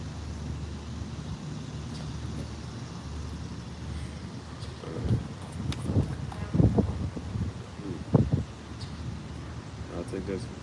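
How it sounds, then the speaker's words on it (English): Wind blows outdoors with a steady low rumble and gusty buffeting against the microphone, with occasional rustling and soft knocks; a voice speaks faintly under it. "Wind is blowing. Let me wait till that subsides."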